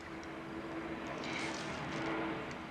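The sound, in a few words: aeroplane flying over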